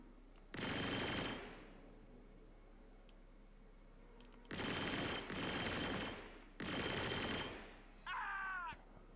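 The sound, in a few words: gunfire in a video game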